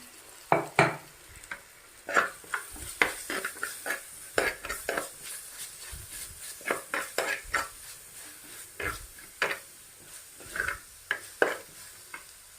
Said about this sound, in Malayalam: സവാളയിലേക്കൊന്ന് ചേർത്ത് നന്നായി വഴറ്റിയെടുക്കാം